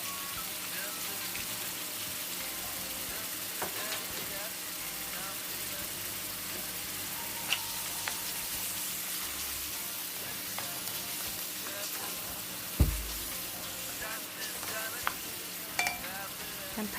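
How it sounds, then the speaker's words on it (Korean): Small 2 cm cubes of beef, seasoned with salt and pepper, fry in a pan for a healthy jajang sauce, giving a steady continuous sizzle with a few light stirring clinks and one brief low thump. "사방 2cm로 썰어놓은 소고기를 넣고 익혀줍니다"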